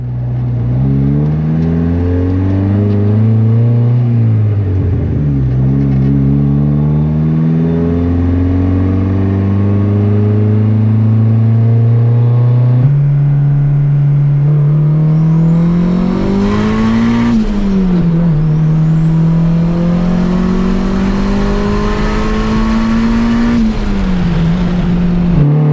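A built turbocharged single-cam Honda Civic on over 20 psi of boost screams through loud, sustained high-boost pulls, the engine note climbing and dipping repeatedly with a turbo whine rising sharply near the end, close and alone.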